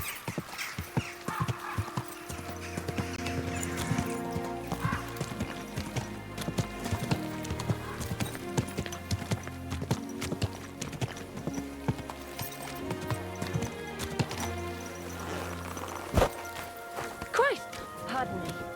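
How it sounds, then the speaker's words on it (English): A horse's hooves clip-clop steadily at a slow walk in Kingdom Come: Deliverance II, with a brief whinny, while someone speaks calmly over the hoofbeats throughout. "Someone's been pampering this horse."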